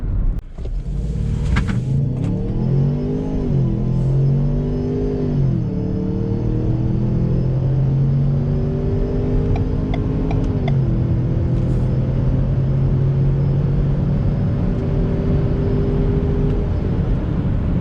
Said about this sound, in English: Nice little acceleration on the highway there in Mexico